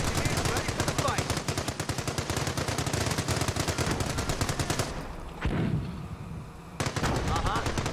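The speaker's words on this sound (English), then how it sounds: "Base is under enemy fire." Sustained rapid machine-gun fire crackles across a base in the Company of Heroes World War II strategy game during the taking of Cherbourg, loud and dense for several seconds, dropping briefly before bursting back in.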